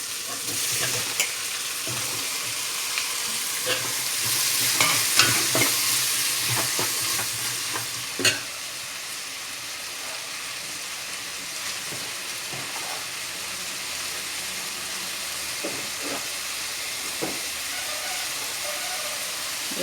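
Chopped small tomatoes fry in a pan for a 1 kg chicken biryani, giving a steady hissing sizzle with occasional clinks and scrapes of stirring, moderately loud and close, with no talking.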